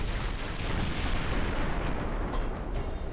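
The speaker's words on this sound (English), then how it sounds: "Secondary guns are still firing." Battleship secondary guns fire in the naval video game Ultimate Admiral: Dreadnoughts, a dense, loud, continuous rumble of overlapping gunfire and booms.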